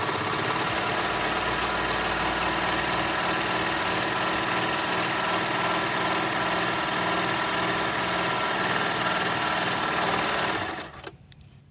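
A Baby Lock Imagine serger stitches a rolled edge, running as a steady, fast, even mechanical whir with rhythmic needle chatter for about ten seconds close up, then stopping abruptly near the end.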